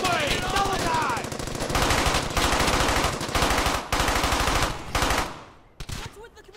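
Machine gun fire in the World War II shooter Brothers in Arms: Hell's Highway, loud rapid bursts broken by brief pauses, with shots echoing and a final burst fading into quieter scattered noise.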